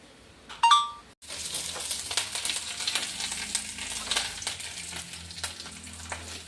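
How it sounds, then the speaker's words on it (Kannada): A tempering of oil and spices for clam shell sukka, a sharp metallic clink of a utensil followed by a steady close sizzle and crackle in the pan, with scattered small pops and stirring scrapes. "ಇನ್ನು ಕೊನೆಯಲ್ಲಿ ಒಂದು ಒಗ್ಗರಣೆ"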